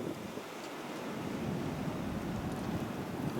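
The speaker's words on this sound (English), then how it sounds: "it's starting to get windy now" Steady storm wind roars during a March blizzard in Massachusetts, a broad continuous rush with buffeting gusts at the microphone, loud and unbroken throughout with no voices.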